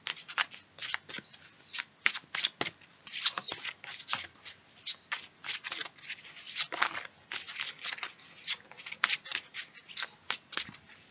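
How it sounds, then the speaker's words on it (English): Tarot cards being shuffled by hand in a steady run of crisp, papery riffles and slaps, close and fairly loud, with no talking over it; some cards fall out of the deck partway through. "I have cards falling out."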